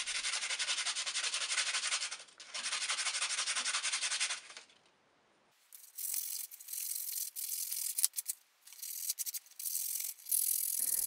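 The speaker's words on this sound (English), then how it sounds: "When sanding, I want to be sure to always sand the piece in the same direction." Rhythmic hand sanding of a wampum button with sandpaper, long rasping strokes in one direction that pause briefly and then resume in shorter, quicker passes.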